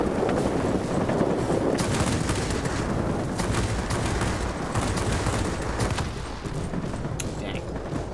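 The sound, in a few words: aircraft guns firing in video game World of Warplanes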